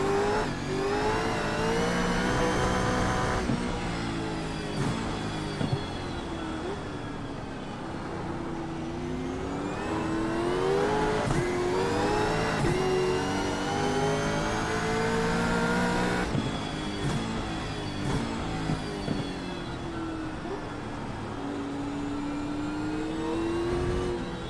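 Gen 3 Supercars racing engines in the iRacing video game, on a wet track, whining and revving up and down through gear changes for the whole stretch, loud and close with other cars audible at times.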